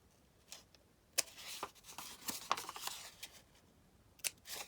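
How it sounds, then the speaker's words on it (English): Scissors snip paper while a junk journal pocket is being made, a scattered series of short, crisp cuts and paper rustles up close, with quiet pauses between them. "We're just going to do a little snip."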